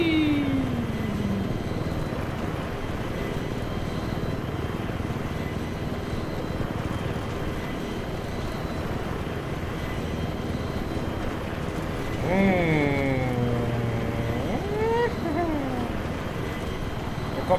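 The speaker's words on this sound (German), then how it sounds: "Kommt ein Helikopter!" A helicopter flies in the video game Battlefield 3 during a conquest round on Operation Firestorm, a continuous loud rotor and engine roar under game noise, with a voice talking over it and swooping tonal effects near the end.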